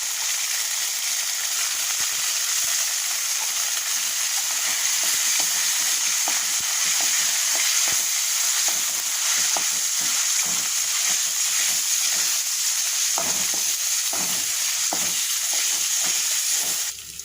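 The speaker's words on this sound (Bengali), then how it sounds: "মশলা কষিয়ে নিয়েছি" Masala with a paste of cashew, poppy seed, raisins and almonds sautés in oil in a pan. It gives a continuous close sizzle and hiss, with soft scraping and stirring knocks under it.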